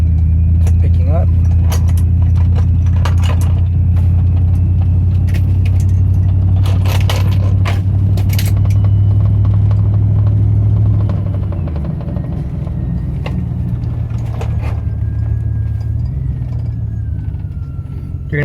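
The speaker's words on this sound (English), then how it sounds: "You're gonna hear all kinds of rattling and shaking in here because I got the tools that I just used, and then the bezel is all taken apart" Tools and a disassembled instrument-cluster bezel rattle and clink inside a moving Chevy, with sharp metallic jingles and clicks scattered over a steady low engine and road drone that eases slightly partway through.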